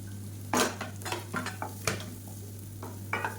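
Onions and green chillies sauté in a pan: a utensil scrapes and clatters against the metal in irregular strokes over a soft sizzle, with a steady low electrical hum underneath.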